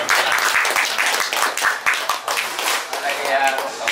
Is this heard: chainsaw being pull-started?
no